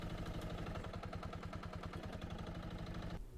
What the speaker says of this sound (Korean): 더불어서 붐을 움직일 때 엔진 RPM이 급속도로 떨어지는 문제도 확인이 됩니다.